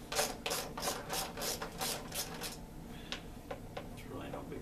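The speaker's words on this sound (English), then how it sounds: "Okay, so got a Torx bit here, small wrench. We're gonna pull these out of here." A small wrench with a Torx bit ratchets and grinds while backing screws out of a motorcycle saddlebag lid, a run of close rhythmic rasping clicks that thin out into a few sparse taps.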